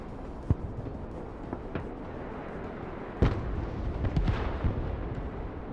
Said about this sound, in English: Okay, the Verba is gonna open up. Panzer's opening up too.